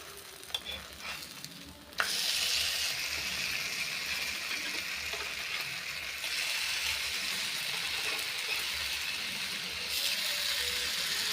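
A sweet wheat-flour dosa made with palm jaggery sizzles steadily in a hot pan, with a sharp clatter as it starts and then a continuous loud frying hiss without speech.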